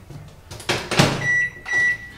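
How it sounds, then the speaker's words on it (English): A unicorn cup cake in a mug goes into a microwave oven: a thump as the door shuts, then two steady electronic beeps as it starts, close by with no talking. "Put in the microwave for a minute."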